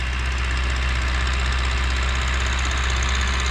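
A YuMZ tractor with a D-240 diesel engine idles with no load, a loud, steady, close rumble with an even knocking pulse that runs without a break and with no voices.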